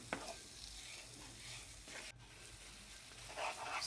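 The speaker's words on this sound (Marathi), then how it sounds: "साखर टाकल्याच्या नंतर परत साखर विरगळेपर्यंत आणि थोडा खवा आटूपर्यंत याला हलवत राहायचं" Khoa and sugar are stirred steadily in a pan for a mava modak mixture, making a continuous soft scraping and faint sizzle with a few sharper scrapes of the spoon, close and quiet.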